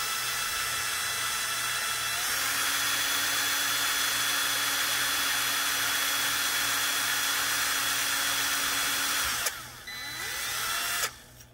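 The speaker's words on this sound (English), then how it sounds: "Let the drill do the work." A power drill boring a small hole in a 1:12 scale dollhouse wardrobe door, with a steady, loud whine that runs unbroken for about nine seconds, then stops and briefly starts again.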